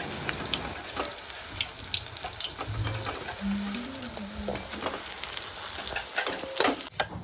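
Bhajiya fritters, including chilli and thin potato slices, frying in hot oil at a village cooking session, a steady close sizzle with scattered crackles and pops throughout.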